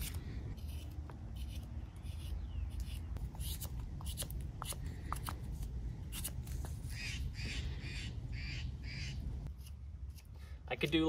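Birds call outdoors with scattered short chirps and caws over steady low wind or ambient rumble, mixed with close scraping and rustling from whittling wood.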